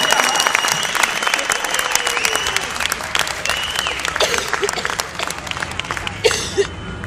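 A concert audience in Luleå, Sweden applauds loudly, a thick, sustained roar of many clapping hands with scattered sharp claps and a few cheers, continuing steadily before easing slightly near the end.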